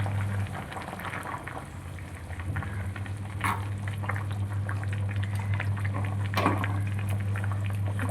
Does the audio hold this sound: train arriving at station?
no